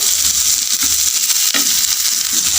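Bitter gourd pieces roast-fry in a pan, giving a loud, dense, steady sizzle close by with soft stirring scrapes underneath and no speech.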